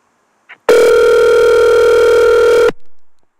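An outgoing telephone call ringing on the line: a faint click, then one loud, steady electronic ring tone lasting about two seconds before it cuts off.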